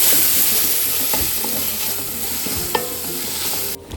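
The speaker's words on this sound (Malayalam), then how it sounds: "അപ്പം നമ്മളിതാ ബിരിയാണീൻ്റെ ഉള്ളി, അതാണ് മെയിൻ സ്റ്റെപ്പ്. അത് നന്നായിട്ട് ഇളക്കിക്കൊണ്ട് നിൽക്കുകയാണ്." Onions for a Malabar-style chicken biryani fry in a pan with a loud, dense, constant sizzle and occasional stirring clatter, then cut off abruptly near the end.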